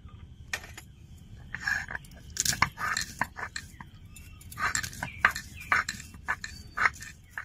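Cashew nuts are ground into paste, heard as close, irregular scraping and crunching strokes with sharp clicks and knocks, in uneven bursts of moderate loudness.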